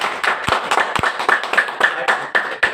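Listeners at a poetry gathering clap in a loose, fairly close burst with distinct sharp hand claps, some landing in a rough rhythm, and no talking over them.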